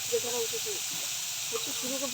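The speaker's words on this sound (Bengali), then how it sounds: "চিংড়ি মাছটা ভালো করে ভেজে নিচ্ছি" Prawns fry in hot oil in a kadai for a jackfruit and prawn curry, giving a steady, even sizzling hiss throughout while a person talks over it.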